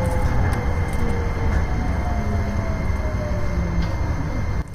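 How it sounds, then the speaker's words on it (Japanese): A private-railway commuter train pulls out of Heiwajima station without waiting, heard from on board as a steady, loud rumble of wheels and motors with a rising whine and faint rail clicks running throughout. "この列車はこの平和島を何も待機なしで出発していきます"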